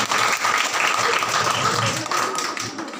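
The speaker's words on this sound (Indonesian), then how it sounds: "Tepuk tangan ulang." Applause fills a school graduation ceremony. The clapping is dense and steady and comes from a large crowd, with voices mixed in underneath.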